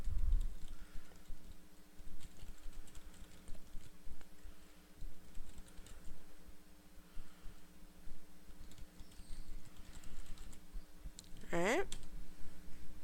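Keystrokes on a computer keyboard while an email message is typed, a steady soft clicking patter running throughout, close and fairly quiet, with brief louder sounds near the end.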